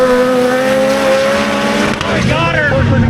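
Can-Am UTVs roar down a drag strip, loud revving engines rising in pitch with a brief tire squeal, while people shout and talk excitedly close by.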